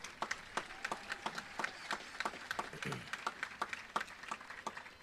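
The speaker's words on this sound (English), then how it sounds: "Please give them all a round of applause." Applause breaks out at a Sebastian River High School graduation ceremony: faint, scattered clapping from a crowd, the individual claps distinct and uneven, heard from a distance.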